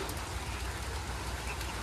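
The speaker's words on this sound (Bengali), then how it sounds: "কারণ বৃষ্টি শুরু হয়ে গেছে" Steady, soft rain hiss fills the clip, a dense even patter with a low rumble underneath and no clear voice.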